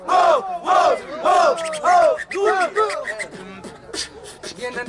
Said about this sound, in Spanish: Hay un ruido de la gente